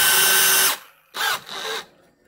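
A power drill fitted with a Bosch Insty-Bit roller lock impact hex extension whines loudly in three close bursts, a long run followed by two shorter pulls of the trigger, with brief silences between.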